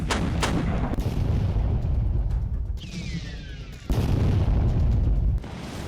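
Artillery fire and bombs exploding in the Ukraine war, a run of heavy booming blasts close by, then a whistling incoming round before another burst of loud rumbling detonations.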